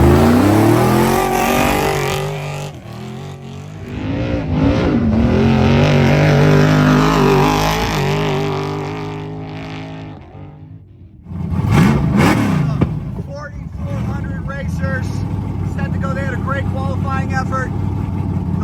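An unlimited trophy truck, number 48, sits at an off-road race start in Crystal, Nevada. Its engine roars loud and close, rising and falling as it revs, then swells again as it launches. A commentator talks over much of it.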